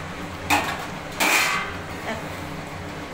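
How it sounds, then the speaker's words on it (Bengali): A lid lifted off a pot of rohu fish curry on a gas stove, giving two clattering metallic knocks close by over a faint steady hiss. "এবার ঢাকাটা খুলে দেখে নিই।"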